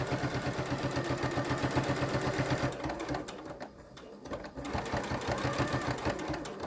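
A sewing machine stitches a single welt pocket, its needle hammering in a loud, fast, even rhythm that slows and pauses briefly midway before running again at full speed, close and without talk.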